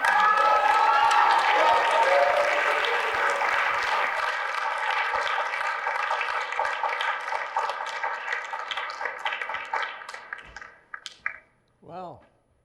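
A hometown audience at a community award event breaks into loud, dense applause that fills the room, then thins and fades out over about ten seconds before a voice speaks briefly at the end.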